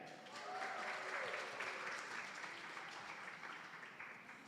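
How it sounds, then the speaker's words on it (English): An audience at an annual founders' day lecture applauds and cheers, a steady, moderately distant wash of clapping lasting several seconds. "Let's give up a cheer."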